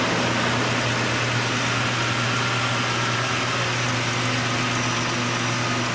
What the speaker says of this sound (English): now we're going to start it up and we're going to see how it runs